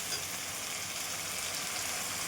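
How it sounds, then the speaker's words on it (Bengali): Spicy masala paste for coriander chicken frying steadily in hot oil, giving a soft, continuous sizzle with no voices. "মশলার পেস্টটা দিয়ে দিয়েছি, আর ভালো করে কষে নেব মশলাটা"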